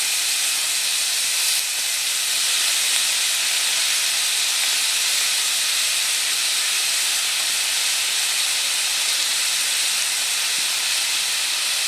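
Prawns fry in a spiced masala with a loud, even sizzle that hisses at close range, unbroken from start to finish, with no one talking.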